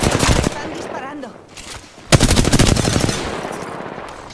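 Rapid automatic gunfire in the shooter game Apex Legends comes in two loud bursts separated by a short lull, with a voice talking briefly in between.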